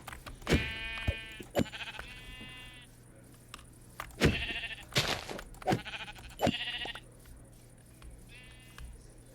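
Sheep in the Minecraft video game bleat repeatedly, a string of short nasal calls spaced irregularly over a low steady hum.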